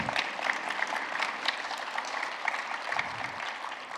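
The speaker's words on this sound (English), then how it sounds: "Give them a round of applause," A conference audience applauds at a developer event keynote after a community award is announced, steady, dense clapping from a crowd filling the whole stretch at moderate distance.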